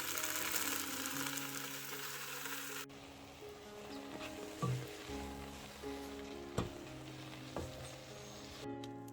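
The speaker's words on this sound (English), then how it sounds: "we are going to add the Gongura leaves and we are going to saute it till it becomes like a paste or it becomes soft" Gongura leaves sauteing in a pan, a soft continuous sizzle with a few louder stirring clacks and scrapes, close and fairly quiet, with a tonal hum early on and no talking.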